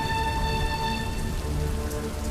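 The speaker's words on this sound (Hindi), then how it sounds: "बारिश।" Steady rain falls in a dense, continuous hiss of drops on surfaces, even and unbroken throughout, with a faint tonal hum lying beneath it.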